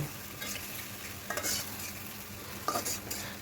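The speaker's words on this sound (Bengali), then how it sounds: "সরষে শুটকিগুলো আমি পেঁয়াজের সাথে একটু ভেজে নিচ্ছি" Dried fish (shutki) with mustard frying alongside onion in a pan, a quiet steady sizzle with a few sharp spatula scrapes and clinks.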